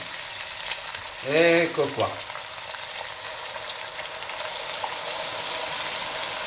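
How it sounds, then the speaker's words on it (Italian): A pork roast sizzles steadily in a pan, a constant hiss that swells louder near the end, with a brief spoken remark early on. "Sentite come sfrigola?"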